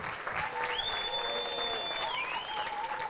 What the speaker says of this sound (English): Give Tony Bellew a round of applause.